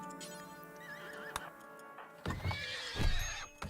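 A horse whinnies with a wavering, high neigh in RimWorld, then snorts and stamps as louder hoof thuds and commotion follow near the end; game-like effects, no talk.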